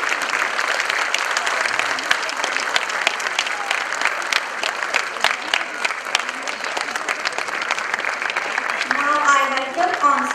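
Parents in a school auditorium clap and cheer steadily at a kids' annual day celebration, a dense, continuous wash of applause with a few higher shouts and whistles rising near the end.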